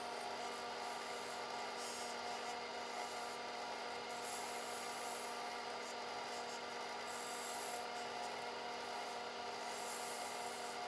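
Sandpaper rubs against a wood spindle spinning on a lathe, giving a steady, even hiss of abrasion over the constant hum of the machine, unbroken and fairly quiet throughout.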